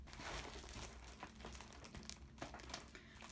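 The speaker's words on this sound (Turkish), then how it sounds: "Bu kargoyu beraber açacağız." Cardboard and plastic wrapping from a parcel of books from an online bookstore crinkle and crumple continuously up close, rustling steadily without any talk.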